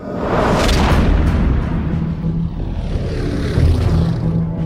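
A loud, steady engine drone of a propeller aircraft passing close by, filling the whole stretch with a heavy, rumbling roar.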